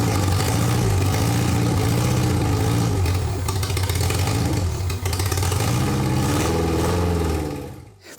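A freshly installed Honda K20 engine with new exhaust runs loud and steady on its first startup, a continuous close engine drone with slight rises in revs, no voices.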